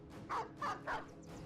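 Dogs barking in the video game Battle Brothers, three short sharp barks in quick succession, moderately close and alone with no talk.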